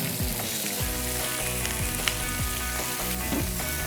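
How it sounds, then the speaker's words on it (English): Shrimp frying in a hot pan give off a steady, loud sizzle with crackling pops, audible alone with no talking and accompanied by continuous musical tones. "Can you hear that sizzling?"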